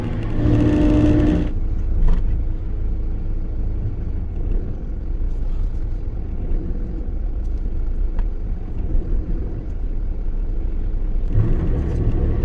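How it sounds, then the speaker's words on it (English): Steady, loud engine rumble and road noise from inside a noisy truck while driving, continuous throughout with occasional rattles. "on my way to Stoke in this truck, which is very noisy"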